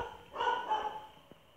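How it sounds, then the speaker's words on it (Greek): Dog barking in a horror game, a short burst of a couple of mid-pitched barks around the middle, fairly close, with faint background ambience and no talk. "Το σκυλί μου φωνάζει πολύ."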